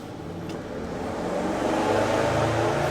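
A car engine runs on a rolling road dyno around a corner, producing a steady droning roar that builds gradually in loudness, heard from a distance with no voices.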